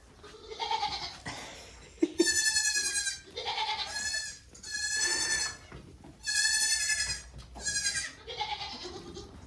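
Several baby goats in a herd bleat in a run of loud, drawn-out calls, one after another with short gaps, close by and with no talking.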